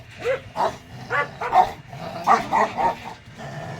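A dog called Beauty barks about eight times in a quick, uneven run of sharp, close, fairly loud barks with short yips between them.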